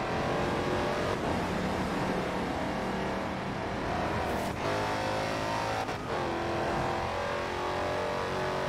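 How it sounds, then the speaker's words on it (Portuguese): A racing car engine in Forza Horizon 4 roars loudly and steadily throughout, with a couple of brief dips where it shifts or lets off before pulling hard again. "você passou pimenta no motor do carro pra correr desse tanto"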